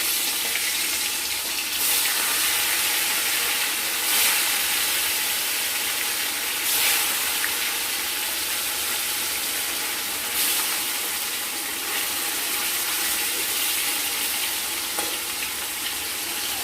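Steady, loud hiss of catla fish frying in hot mustard oil, continuous and even throughout, with occasional brief spits and pops.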